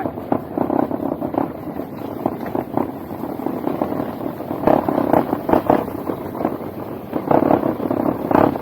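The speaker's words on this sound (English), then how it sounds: "is the pizza box on the back." Pizza box banging on the back of a Brompton folding bicycle ridden along a muddy woodland track, giving repeated irregular knocks and rattles over a steady rolling rumble, fairly close and loud throughout.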